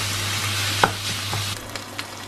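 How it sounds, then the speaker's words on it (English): Ground meat sizzles and fries in a pan for a pasta dish while a utensil chops and breaks it apart, giving a steady close crackle with a few sharp scraping knocks, no talking. "continue to chop up our meat as much as possible. Just break it down."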